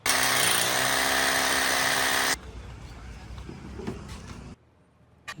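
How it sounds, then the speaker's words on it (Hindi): A power drill drives fasteners into a solar panel mounting structure during a rooftop 5 kW solar plant installation, starting with a loud, dense whine for about two seconds, then fading to quieter clanks and handling noise. "नीचे फास्टनर लगा रहे हैं, उसको ड्रिल करेंगे"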